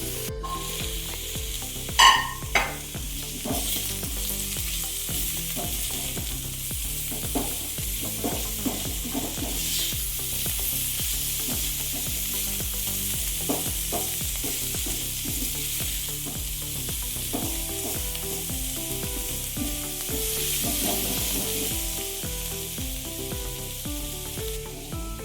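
Chicken sizzles steadily as it fries in a pan for a chicken soup, with intermittent stirring and scraping sounds over the continuous hiss, no voices.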